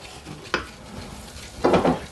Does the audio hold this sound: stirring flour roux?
yes